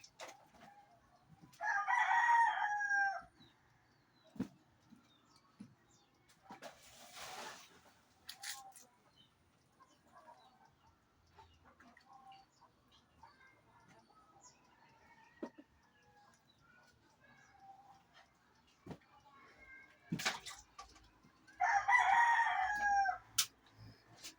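Rooster crowing twice, near and clear, at the start and again near the end, with quiet rustles and faint outdoor sounds in between.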